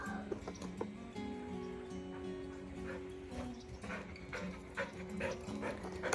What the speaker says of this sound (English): We have the dogs coming over here.